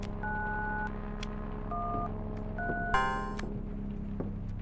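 Phone dialing tones in the horror video game Obey The Voice: a sequence of steady two-tone beeps of varying length, followed by a bright burst, then a low continuous hum with no speech.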